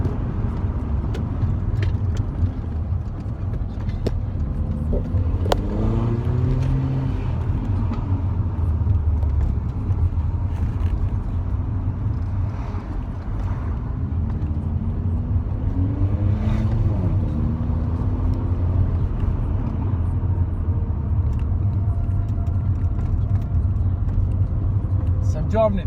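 Mercedes AMG car rolling through a village, a steady low engine and road rumble running throughout at even loudness, with someone talking over it.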